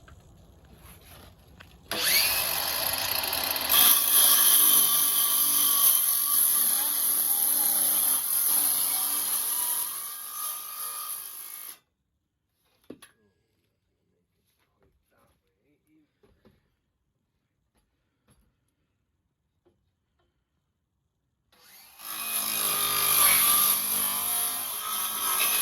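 Tools tear into the top plywood layer of a vintage RV floor, making a loud, harsh rasping and grinding noise in two long bursts separated by near silence with a few faint knocks.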